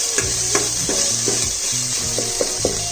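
Pumpkin pieces fry in a pan for a pumpkin curry, a steady close sizzle with repeated scraping stirs of a utensil against the pan.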